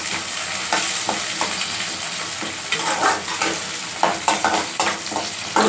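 Curry leaves crackle and fry in a pan while being stirred, a steady close sizzle broken by irregular scraping strokes throughout.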